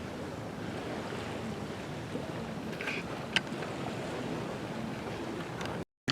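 Steady broadband rush of waves on a shore mixed with wind, heard outdoors with no talking, ending in a brief dropout.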